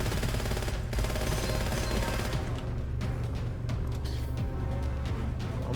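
Rapid bursts of automatic gunfire from the video game Gunfire Reborn crackle loud and close in dense volleys, thinning into scattered separate shots in the second half, with no voices.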